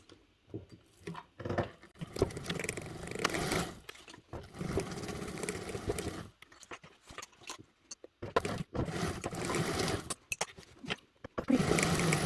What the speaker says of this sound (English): let's move the sewing machine back in and we're going to sew these 4